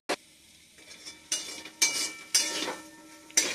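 Soya chunks frying in a pan and being stirred, with a short scrape at the start and then several separate bursts of scraping and clatter over a soft steady sizzle.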